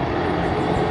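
A Brazilian Army helicopter at Sorocaba airport gives a loud, steady engine and rotor roar, with no voices.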